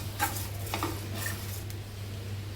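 Coconut and coriander seeds dry-roasting in a pan, with a few light scrapes and clinks of a spatula against the metal over a steady low hum, quiet and close.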